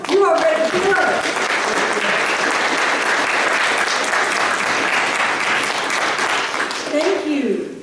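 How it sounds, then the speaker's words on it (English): An audience at a Unitarian Universalist gathering applauds loudly and steadily for several seconds, dense clapping filling the room, with a voice speaking briefly at the start and end. "give yourselves a round of applause"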